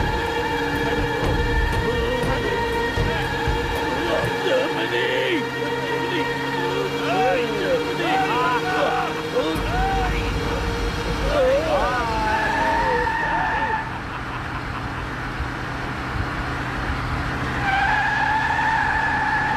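A car pulls away and skids in a Tamil film scene, with engine noise and tire squeals running throughout under a background music score and occasional voices.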